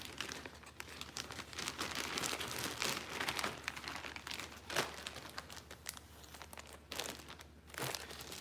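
A plastic bag crinkles and rustles continuously as an item from a Get Lowered Cycles package is slid back into it. The crackling is close and fairly quiet, with brief sharper crunches throughout.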